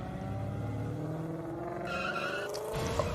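Diecast toy race cars wipe out on the pipeline section of a race track, with a steady engine-like roar, a rising skid squeal and a sharp knock near the end.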